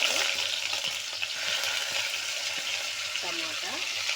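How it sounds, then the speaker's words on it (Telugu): Cumin, dried red chillies, onions and curry leaves sizzle steadily in hot oil in a pan, with occasional stirring scrapes, for a Kadapa-style Rayalaseema fish curry. "ఇవన్నీ బాగా వేగాలండి"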